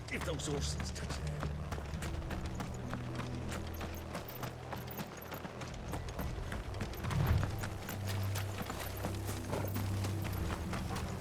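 Horse hooves clip-clop at a quick, steady pace in Final Fantasy XVI, running under a low droning musical score with voices speaking over the scene.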